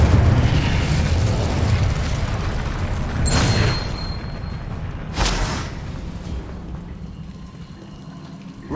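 A fiery Incendio spell blast goes off in the Hogwarts Legacy video game, with two sharp bursts standing out over a steady rumbling, crackling bed of game ambience and no voices.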